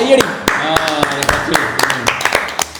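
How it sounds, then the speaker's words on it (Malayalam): Sharp clapping taps ring out at a family name-place-thing game, scattered and uneven over steady chatter and laughter from people talking nearby. "കയ്യടി."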